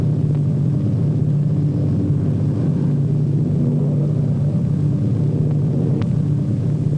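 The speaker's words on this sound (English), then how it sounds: "Our pilot brings his plane in to a smooth landing." A steady, low engine rumble of an early airplane coming in to land on a runway, droning evenly throughout, with a faint whine and no voices.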